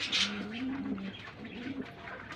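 Pigeons at a pigeon farm give soft, low, repeated coos, a few close calls rolling one after another over faint background noise.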